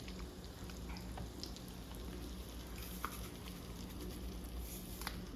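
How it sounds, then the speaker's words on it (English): Chicken tenders sizzle and crackle in hot oil, a quiet, steady frying hiss with scattered small pops. "While our chicken tenders are frying"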